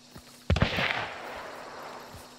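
A single distant gunshot in the game Hunt: Showdown, a sharp crack with a rolling, echoing tail that fades over about a second, followed by faint ambient quiet.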